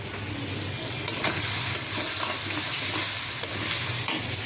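Potato chips and leftover gram-flour batter frying in oil in a pot give a loud, steady crackling sizzle that holds throughout, with a few brief louder pops and no talking.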